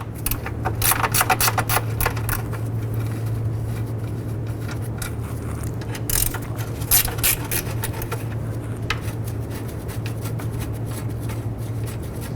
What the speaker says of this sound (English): Using a 10mm wrench or ratchet, go ahead and remove these bolts.